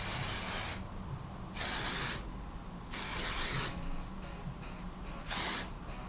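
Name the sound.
hairspray being sprayed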